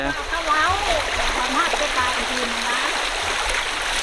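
Water flows and splashes steadily over rocks, a constant rushing stream with voices talking over it.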